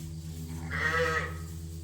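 A single wavering bleat rises from Dorset ewes in a farm pen, clear and fairly close, against a low steady hum.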